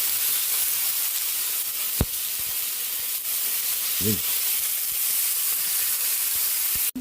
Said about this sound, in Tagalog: Nagisa na yung ating chicken.